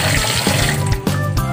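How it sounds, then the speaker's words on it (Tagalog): Tap water runs into a pot as something is rinsed under it while cooking, a steady close splashing broken by a few clunks and shifts in the flow as the item is handled. "hugasan lupot natin ng tap water"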